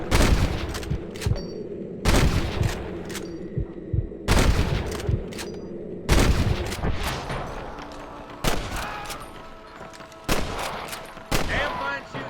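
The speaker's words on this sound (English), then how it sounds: "Damn fine shooting, boys." A squad shooting in the video game Red Dead Redemption, loud repeated gunshot bursts at roughly one- to two-second intervals, each blast ringing and decaying, with occasional talk underneath.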